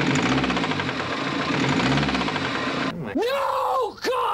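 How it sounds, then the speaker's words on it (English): Mini fitted with a BMW B47 diesel engine revving up and down with a rough, knocking, laboring tone, loud and close, then a sudden change to a strained, wavering groan near the end, with people talking over it. "Give it a rev."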